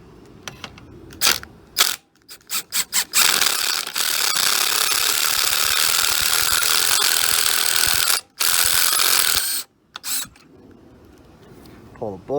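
A ratchet wrench loosening the foot peg bolt on a Yamaha WR250 motorcycle: rapid pawl clicking in short bursts and long runs, close and loud, with someone talking briefly at the edges.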